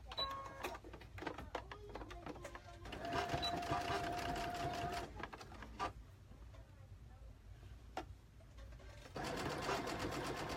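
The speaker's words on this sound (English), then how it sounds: "I'm sewing like right on the edge right here, just on the very edge." A sewing machine stitches along the very edge of curtain fabric, its quiet mechanical whir starting and stopping in several short runs with clicks and handling noises between, and a voice speaks faintly underneath at times.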